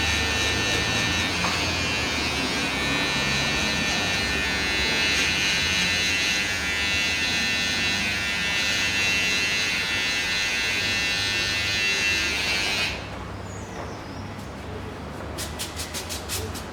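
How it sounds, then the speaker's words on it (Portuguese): Electric hair clippers buzz steadily up close while cutting a mid fade haircut, then the motor cuts out and a few soft clicking and snipping sounds follow near the end. "Eu já posso aproveitar a máquina de acabamento e fazer a curva do cabelo dele aqui."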